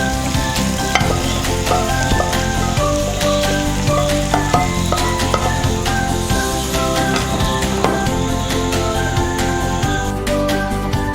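Hot tempering for Kerala fish curry hits the pot with a loud, dense, continuous sizzle and crackle, mixed with steady background music throughout.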